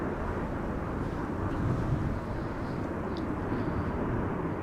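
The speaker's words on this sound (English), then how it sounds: "Air France flight 1444. Bombardier C-Series," An Air France Bombardier C-Series (A220) passes during a go-around at windy Amsterdam Schiphol, a broad steady jet roar mixed with wind rumble, moderately distant and continuous with no talk.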